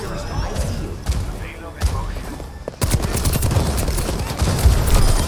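Gunfire in the video game Overwatch, rapid bursts of shots and impacts within a busy, loud fight, with voices heard over the action.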